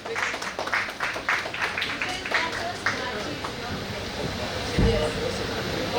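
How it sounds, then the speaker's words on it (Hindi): An audience applauds guests being called onto the stage at a Balaji Telefilms announcement event, with a dense crackle of clapping early on that thins out beneath continuing talk. "इन दोनों के लिए जोर से ताली, please"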